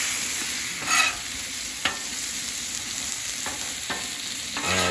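Beef sears in a hot pan with a constant loud sizzle, broken by a few sharp scrapes and clicks as a spatula slides underneath the meat; no voices.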